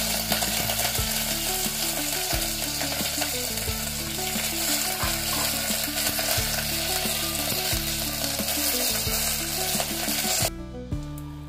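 Dry chillies, garlic and curry leaves sizzling in hot oil for a tempering, a loud continuous frying hiss with repeated scraping and clacking from stirring throughout.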